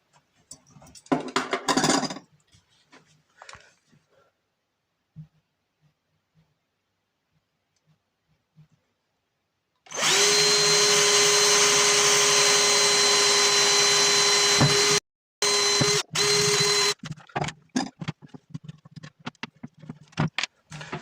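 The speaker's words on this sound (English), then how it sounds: "It's just basically drilling the two holes through and putting the screws in and screwing the handle on" Power drill boring holes and driving screws to fix a handle on a DIY laser engraver enclosure: a sustained whining drill run of about five seconds, then shorter bursts and clicks, after quiet handling noises.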